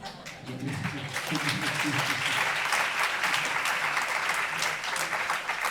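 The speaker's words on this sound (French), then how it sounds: "accueille les applaudissements" Audience applause at a live jazz trio concert at a festival, a dense wash of clapping from a crowd of a few hundred that swells and carries on for several seconds.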